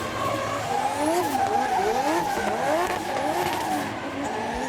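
A drift car in a Pro-Sport Restricted Class grand final at Baypark slides with a sustained tire squeal over a revving engine whose pitch rises and falls repeatedly, loud and continuous at close range.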